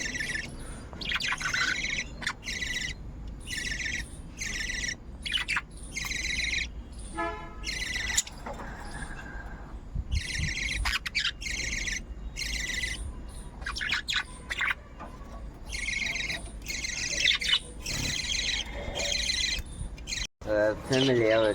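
Birds calling around a pigeon roost, repeated chirps and squawks throughout, fairly close and loud, while people talk underneath.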